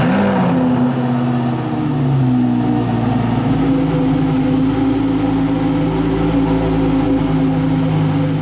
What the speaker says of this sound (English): here is a great example of just how much the Huracan STO spits out of the exhaust